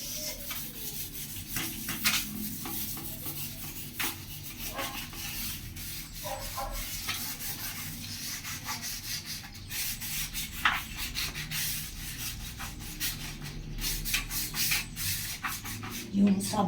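Sandpaper rubs over a bathroom surface to remove hard-to-remove soap residue, a continuous close scraping with irregular strokes and occasional knocks throughout.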